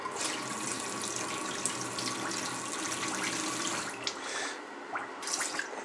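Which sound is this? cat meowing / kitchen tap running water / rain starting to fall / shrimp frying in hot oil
kitchen tap running water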